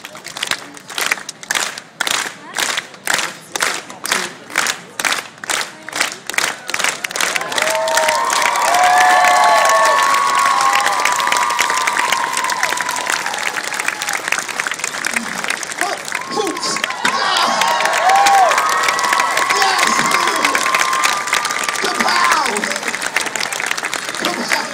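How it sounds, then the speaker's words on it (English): An audience at a downtown Kingston street busker show keeps up a steady slow hand clap that swells into loud applause and cheering, with bursts of whooping and a voice talking over it. "Slow hand clap."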